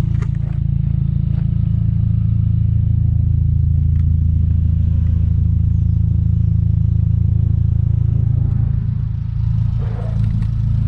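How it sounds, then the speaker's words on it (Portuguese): A VW Gol spins a 360 in the street, its engine droning in a steady low, loud rumble with faint scrapes and clatter, and a brief surge near the end. "Eu vou dar um 360 no carro agora"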